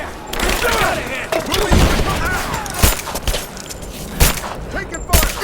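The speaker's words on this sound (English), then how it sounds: "Open fire! Give me covering fire!" Gunfire in a firefight in Rise of the Tomb Raider: scattered loud shots and booming impacts among shouting voices and battle noise, close and chaotic.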